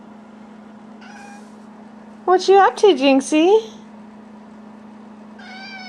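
A lazy pet cat meows several times in a row, near and fairly loud, over a steady heater hum, with a person talking to it softly before and after.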